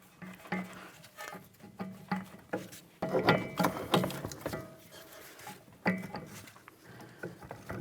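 Ratchet clicking as strut mounting bolts are threaded in on a 2007–2014 Ford Edge front strut, with scattered close metallic clicks, clanks and handling knocks at moderate level, no talk.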